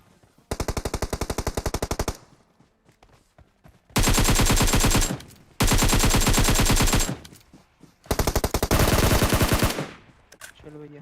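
Automatic gunfire in the battle royale game PUBG rattles out in four loud, rapid bursts separated by short pauses, each burst a dense string of close shots.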